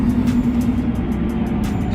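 Car driving past on a road near a freeway, heard from inside a vehicle: a steady, loud broadband road and engine rumble that holds throughout without a distinct rise and fall, with no talking.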